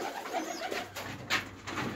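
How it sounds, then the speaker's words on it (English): Pigeons coo inside a shed that serves as a pigeon loft, soft repeated throaty calls close by, with some faint rustling and no talk. "There's some of my pigeons doing what pigeons do."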